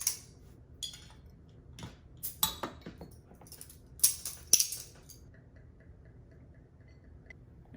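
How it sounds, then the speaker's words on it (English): A bottle opener pops the cap off a Chili Porter beer bottle, giving a few quiet metallic clicks and clinks followed by a brief hiss, close and isolated. "Let's go ahead and open this up. Get my trusty bottle opener."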